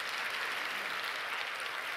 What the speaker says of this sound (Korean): 우리 유충환 집사님, 박수 한번 주시면 감사하겠습니다.